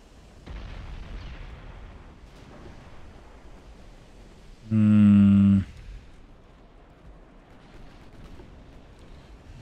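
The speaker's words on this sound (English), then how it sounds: "She just got torped." A torpedo strikes a warship in Ultimate Admiral Dreadnoughts, a 1940 historical German battleship battle: a single loud, booming explosion lasting about a second rises sharply above a low, rumbling background of naval combat.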